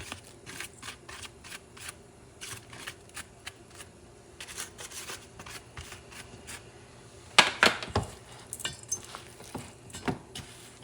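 Duck meatball mixture for North African duck balls is worked by hand with condiments, giving soft, irregular squelching and slapping pats close up, quiet at first and then a louder burst of wet handling.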